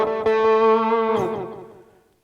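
Electric guitar played through the delay effect of a Lekato PA-1 pocket amp, a couple of plucked notes ringing with echoing repeats that fade out over about two seconds.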